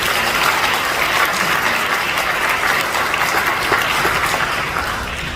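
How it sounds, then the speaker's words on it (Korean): Church congregation clapping at a pastor's installation service, loud dense applause filling the room continuously and easing off slightly at the close. "다시 한번 박수로 드립시다."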